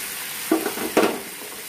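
Boiled bottle gourd peels go into fried masala in a pan, making two short bursts of sizzle and stirring over a low steady hiss.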